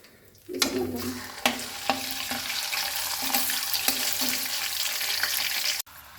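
Mustard oil sizzles and crackles steadily in a wok as mango pickle gets started, with a few sharp clatters of a spoon or utensil over the continuous frying hiss, loud and close.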